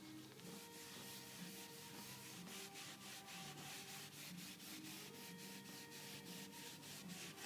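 A rag rubs Old English scratch cover into very dry wood, giving steady, rhythmic soft scrubbing strokes that repeat close up with no talking.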